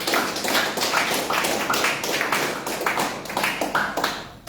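Church congregation applauding, a steady wash of many hands clapping at once with rhythmic surges, filling the room loudly and evenly for several seconds without talk.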